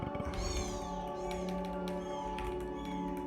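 Kittens meow repeatedly, with several rising and falling cries over a steady background hum and no talking.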